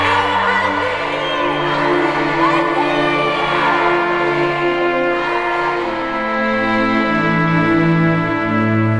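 A large crowd roars and cheers continuously in a Korean independence movement scene at Seodaemun Prison, with loud sustained shouting of manse filling the whole span without a break.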